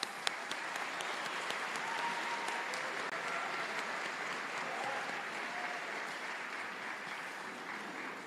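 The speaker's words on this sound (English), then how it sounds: "let's go ahead and give him a round of applause." Audience applause at a high school band concert, a sustained wash of clapping heard from a distance at moderate level, with a few sharper claps near the start.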